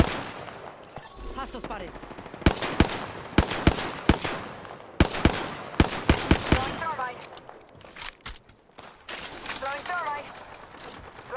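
Rapid bursts of gunfire in Apex Legends crack close and loud in uneven volleys, with a voice speaking between the shots.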